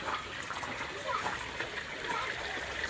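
Water gushes and splashes steadily into a container at a kabaddi practice ground, a constant close wash of sound with voices talking over it.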